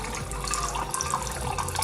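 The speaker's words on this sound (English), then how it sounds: "Put some water in there." Tap water gushes steadily into a cooking pot holding cut broccoli and potatoes: a short, close, continuous splashing rush with no voices.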